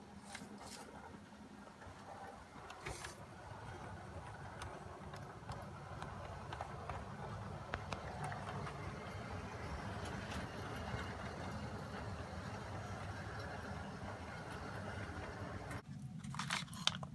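A Hornby model train with a Ringfield motor runs on a layout, pulling a nine-coach set, a steady faint mechanical whirr with light rhythmic clicking of wheels over track, close and continuous throughout.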